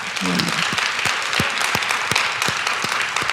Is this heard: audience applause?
yes